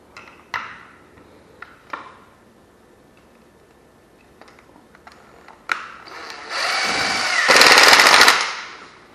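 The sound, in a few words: power drill driving a fatter screw into a bypass door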